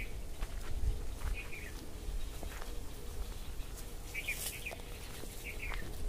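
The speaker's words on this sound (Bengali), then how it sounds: "আপনারা কি পাখির আওয়াজ শুনতে পাচ্ছেন?" Birds call in a leafy city forest in Kolkata, short scattered chirps and whistles at a moderate distance over a steady outdoor hum, with a faint clucking fowl, no talk.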